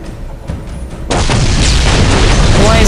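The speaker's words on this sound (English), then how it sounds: "Why is it blowing up?" A blast goes off in the Warhammer 40K real-time strategy game Dawn of War Winter Assault, a sudden loud boom that rolls into a sustained roar of battle noise after a quieter opening.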